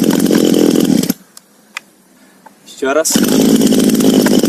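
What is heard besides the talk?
GoodLuck GL4500C chainsaw being started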